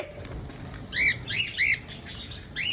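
Soft rustling background broken by a few quick, sharp bursts of pigeon wing flapping, close by and short.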